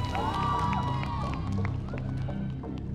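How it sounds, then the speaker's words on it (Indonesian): An audience claps and cheers for five contestants on an Indonesian TV talent show, clapping and shouting mixed with music and a loud voice over the top. "Tepuk tangan untuk kelima peserta kita yang mendapatkan voting tertinggi."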